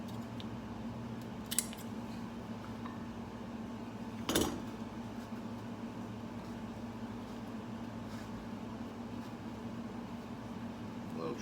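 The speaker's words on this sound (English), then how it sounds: "So this scissor is going to be my metal press." Scissors cut a cork gasket: two brief, crisp snips a few seconds apart over a quiet, steady background hum.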